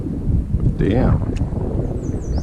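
Wind gusts across the microphone beside a Wisconsin trout stream, a low rumbling buffet under a person speaking briefly, with a faint high whistle near the end.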